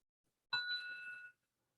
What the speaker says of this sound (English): I'll sort of ring the bell each time we start